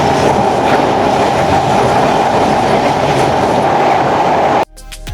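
The Jahanabad Express crosses the Padma Bridge over the Padma River with a loud, dense rolling rumble and wheel clatter that holds steady, then cuts off abruptly near the end.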